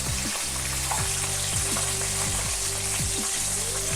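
Chicken pieces for a crispy zinger burger deep-frying in hot oil over a medium to high flame, a loud, dense, continuous sizzle with bubbling crackle and occasional low knocks, heard close with no talking.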